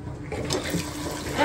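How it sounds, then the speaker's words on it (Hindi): A weak stream of tap water running while clothes are washed, a steady soft splashing hiss with no voices over it. "पानी आज पता नहीं हमारे हल्का क्यों आ रहा है"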